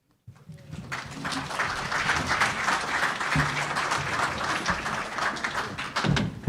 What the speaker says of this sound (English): Another round of applause to our panelists